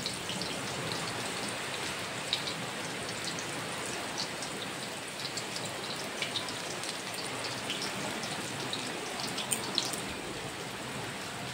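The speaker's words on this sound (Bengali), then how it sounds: "এইভাবে আস্তে আস্তে গোল করে বড়াগুলোকে ভেজে নিতে হবে।" Drumstick flower fritters deep frying in hot oil, a dense, continuous sizzle and crackle with scattered tiny pops, steady and close throughout with no talking.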